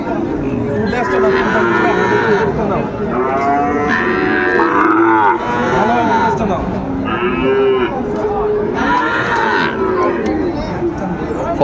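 Several cattle, including Sahiwal bulls, mooing loudly and repeatedly at a Noakhali cattle market, long drawn-out lows overlapping amid a noisy crowd of voices close by.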